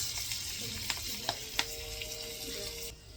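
Green chillies sizzle in hot oil with turmeric for a tempering for dadpe pohe, a steady close frying hiss with a few small pops and clicks and no talk.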